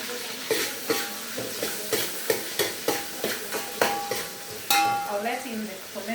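Cabbage, onions and tomato fry in a pan, a close, steady sizzle broken by repeated scraping stir strokes in an uneven rhythm, with occasional clinks of utensil on the pan.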